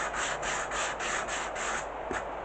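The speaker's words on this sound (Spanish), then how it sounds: "al final voy a lijar un poquito más de lo que tenía pensado" Rhythmic hand sanding of a decoupage piece, a dry scratchy rasp repeating in steady back-and-forth strokes, close and fairly quiet, ending with a short final stroke.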